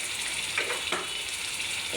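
Ground spices and turmeric frying in a pan with fish roe, a steady close sizzle with a couple of brief stirring scrapes, no voices.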